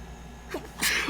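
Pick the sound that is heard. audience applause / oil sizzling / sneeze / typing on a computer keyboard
sneeze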